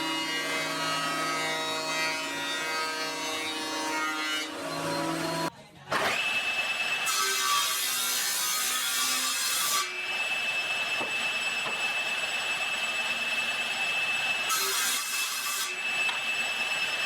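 A power saw cuts table leg boards to rough length, running with a loud steady whine, dropping out briefly, then biting into the wood again in long continuous passes.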